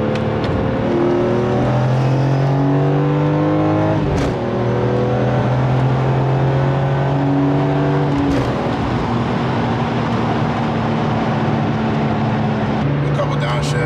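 BMW E46 M3 engine droning loudly at highway speed from inside the cabin, with two clear downshift blips where revs jump and settle, steady road roar throughout.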